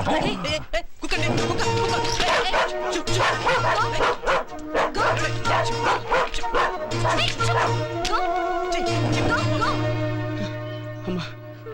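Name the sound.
dog barking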